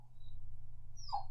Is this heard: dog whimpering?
yes